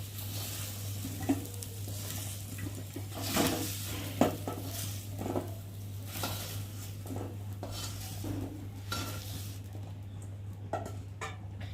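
Fried green banana pieces being lifted one by one from a kadai, a low sizzle of oil under intermittent clinks and scrapes of a utensil against the pan, with a steady background hum and no talking.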